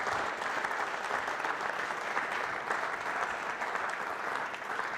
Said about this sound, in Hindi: तालियां बजाइए मैम के लिए और उनके लिए जोरदार तरीके